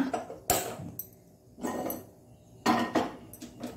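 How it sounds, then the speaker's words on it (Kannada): An iron tawa griddle set down on a gas stove, heard as a few separate metallic clanks and scrapes, close and fairly clear, with quiet gaps between them. "ಇಲ್ಲಿ ಗ್ಯಾಸ್ನಲ್ಲಿ ಕಾವಲಿಯನ್ನು ಇಟ್ಕೊಳ್ಳೋಣ"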